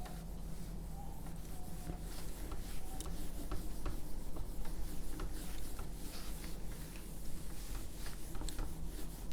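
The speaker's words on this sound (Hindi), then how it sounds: "इसको मैं फिर से रब कर रहा हूँ" Steady, soft rubbing of a duster erasing writing from a board, a continuous low scrubbing close by with faint knocks, no talk over it.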